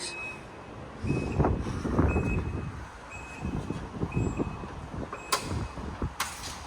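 The powered rear door of a third-generation Nissan Elgrand hums and whirs shut, followed by a couple of sharp latching clunks, with a repeating beep in the background.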